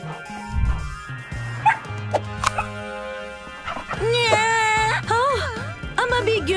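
A cartoon space dog barking and yipping in a children's animated story, several sharp barks and whimpering yelps, close and loud, with a voice speaking and music around them.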